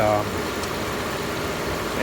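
A 2007 Volvo XC90 engine idles with a steady, smooth low rumble, continuous and close, with no change in pace.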